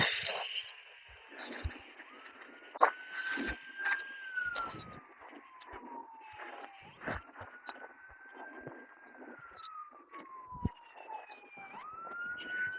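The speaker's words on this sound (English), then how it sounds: "Oh, here comes an ambulance." An ambulance siren wails in slow rising and falling sweeps, moderately distant, passing along a snowy Columbus street over traffic noise and scattered background sounds, continuing throughout.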